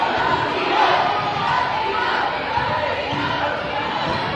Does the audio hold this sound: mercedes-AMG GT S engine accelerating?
no